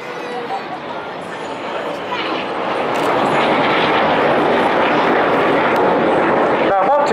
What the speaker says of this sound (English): They're going to pass just 35 meters from each other in a manoeuvre called the Carousel.